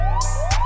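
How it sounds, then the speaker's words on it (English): A police siren heard within a UK drill music track, loud and up front, its rising wail sweeping upward twice in quick succession over a deep, booming bass. "That's the sound of the police, like."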